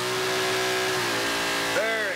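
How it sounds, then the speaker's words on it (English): A car doing a burnout at a 2019 burnout contest in North Logan, its engine holding a steady high rev, then dropping briefly before a sharp rise in pitch, with a constant roar throughout. "Comes burning rubber there."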